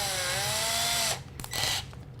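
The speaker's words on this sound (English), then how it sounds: "Now, I'm going to use a small drill bit" A small drill bit reams out the inside of a threaded tube during electronics wiring work, giving a loud, close, steady whine that stops abruptly, followed by two short bursts of drilling.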